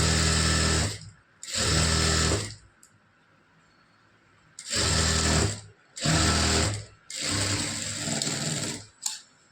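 A sewing machine stitches along the border of a blouse lining for a Poonam saree, in five loud, close bursts of fast mechanical whirring separated by short quiet pauses.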